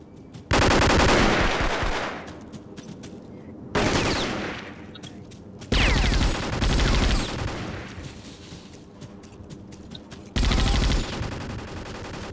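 Bursts of automatic machine-gun fire ring out in the Vietnam War shooter Vietcong, four loud sustained volleys separated by quieter stretches of scattered shots and battle noise.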